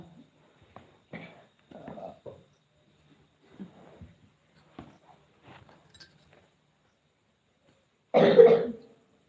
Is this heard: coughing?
yes